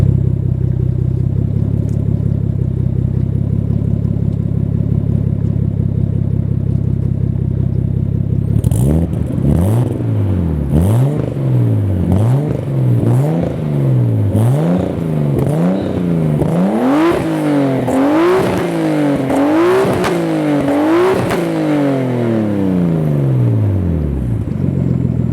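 A Nissan Skyline R32 with a new ISR exhaust idles with a deep, steady burble, then revs repeatedly in sharp, rising bursts that fall back between blips, loud and close.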